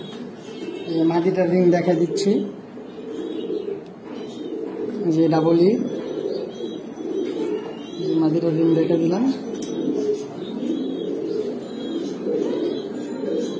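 Giant Huma pigeons, a ringed pair, give three low rolling coos a few seconds apart while people talk nearby throughout.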